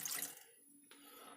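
A tiny bit of water is poured into flour in a kitchen while cooking clam linguine, giving a brief, faint trickling splash.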